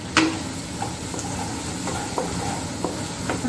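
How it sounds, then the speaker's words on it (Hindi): Chopped capsicum frying in a pan, a steady close sizzle with a few light scrapes and taps of stirring throughout. "और इसको थोड़ा सा फ्राई करूँगी।"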